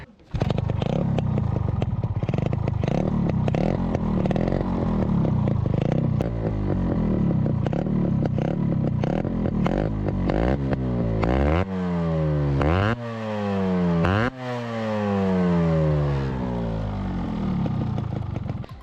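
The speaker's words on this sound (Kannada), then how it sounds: "ಇವಾಗ ಮತ್ತೆ ಗಾಡಿನ ಸ್ಟಾರ್ಟ್ ಮಾಡಿಬಿಟ್ಟು ಇವಾಗ ಹೆಂಗೆ ಸೌಂಡ್ ಆಗುತ್ತೆ ಅಂತ ಅಂದ್ಬಿಟ್ಟು ಚೆಕ್ ಮಾಡೋಣ" A Yamaha RX motorcycle engine with glass wool packed in its silencer runs close by, a steady throbbing idle that turns into repeated revs with pitch sweeping up and down toward the end, loud and without speech.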